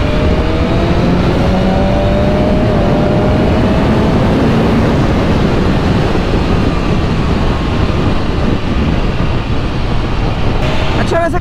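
Superbike pushed near its rev limit around 9000 rpm in fifth gear at high speed through city traffic, heard as a loud, continuous engine roar and rushing wind that stays steady across the whole stretch.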